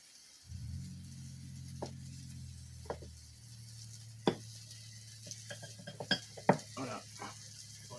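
Steak frying in butter in a pan gives a soft, steady sizzle, broken by sharp metallic clinks and scrapes of a utensil against the pan.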